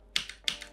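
Space bar on a computer keyboard tapped twice in quick succession, crisp close clicks each followed by a softer release tick.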